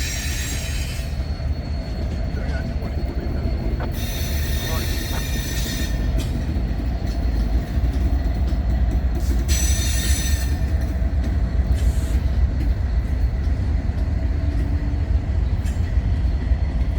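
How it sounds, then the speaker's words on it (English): Norfolk Southern freight train 187 backs slowly into a yard in Birmingham, Alabama, with BNSF SD70ACE 9327 trailing third of three locomotives. A loud, continuous wheel rumble is broken by repeated high metallic squeals, with no talk. "we would catch NS 187 making a reverse move into the yard"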